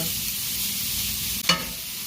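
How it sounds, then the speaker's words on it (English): Chicken sears in a hot pan with a continuous, even sizzling hiss, broken once by a brief clatter midway. "I want to sear it in this pan, get some nice colour on it"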